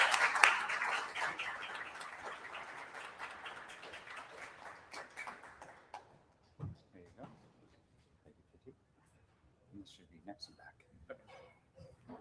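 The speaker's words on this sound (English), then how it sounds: "Let's give a big round of applause to our next speakers." A conference audience applauds the next speakers, a thick wash of clapping that swells at first and fades over about six seconds, leaving scattered claps and voices.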